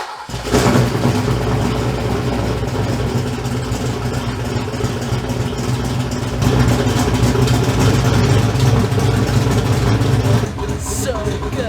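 A turbocharged Fox body car engine cranks, catches and settles into a steady, loud idle that rises briefly in the middle before dropping back, close by and alone.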